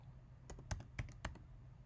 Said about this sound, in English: start typing a name